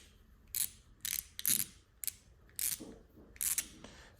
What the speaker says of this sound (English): little ratcheting driver, reversible, so you can reverse it, and you can ratchet